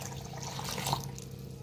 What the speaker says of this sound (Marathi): आता पाणी ओतून मिक्सरला लावून घ्यायचं आहे.